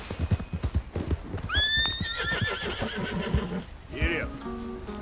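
A horse in the video game Red Dead Redemption 2 gallops with rapid rhythmic hoofbeats, then lets out a loud shrill whinny midway, while a person speaks over it.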